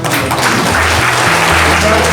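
An audience at a school event claps together in dense, sustained applause, loud and continuous over the whole moment, with voices mixed under the clapping.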